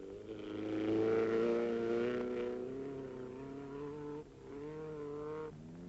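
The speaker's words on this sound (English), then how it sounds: "Now coming in is car number 1, another Ford Taunus 20M." A Ford Taunus 20M rally car in the 1969 East African Safari Rally drives past. Its engine drone swells to a peak, then holds a strained, revving tone with a brief dip near the end.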